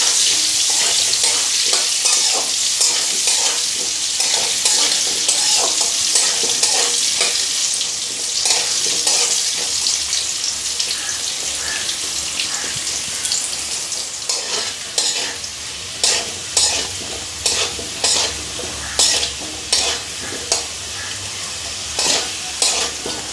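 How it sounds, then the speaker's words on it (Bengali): Potatoes fry in oil with salt and turmeric for a Bengali cabbage dish, a loud continuous sizzle up close that gives way to rhythmic spatula scrapes and clacks against the pan in the later part. "অল্প লবণ, সামান্য হলুদ দিয়ে আমি আলুগুলো লাল লাল করে ভেজে নেব।"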